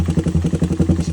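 A Suzuki Raider 150 motorcycle idles while warming up after a cylinder head swap, a close, steady chugging pulse with rapid even beats and a light mechanical clatter.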